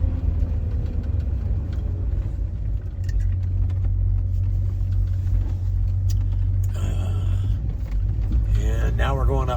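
An off-road vehicle crosses a desert wash with its rear axles unlocked, producing a close, steady low engine rumble and rattling, with brief scraping and rustling bursts toward the end and no speech.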